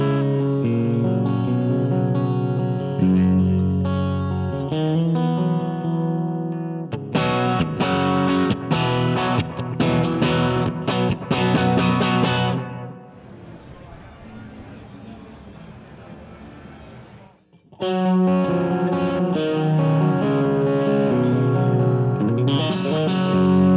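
An electric guitar plays through a Vox AV analog modelling amp, moving from clean chiming tones to gritty crunch and overdrive, with a brief quieter passage in between.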